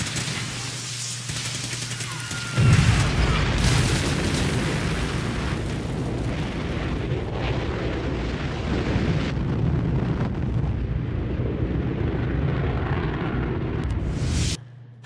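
Rocket engine ignition in the game Fallout 4: a sudden roaring blast kicks in and then a dense, loud, sustained rushing roar continues for over ten seconds before cutting off abruptly.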